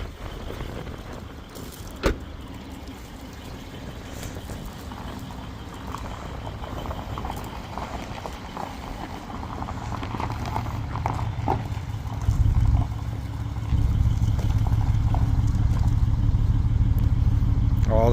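A BMW X5 SUV starts up in front of a garage, its engine settling into a steady idle that grows fuller and louder toward the end, with no talking over it.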